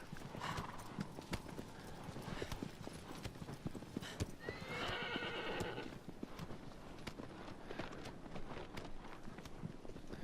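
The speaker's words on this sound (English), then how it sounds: "we make our horse run faster" A horse in the Shadow of the Colossus video game gallops with rapid, rhythmic clip-clop hoofbeats throughout, and it neighs loudly once near the middle.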